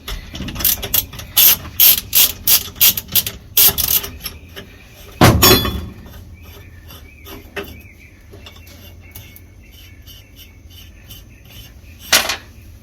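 A tool is loosened on the bungee of a 1945 Taylorcraft BC-12D, with quick bursts of loud, close ratcheting clicks, then a heavy clunk, a few quieter clicks and a final sharp clack.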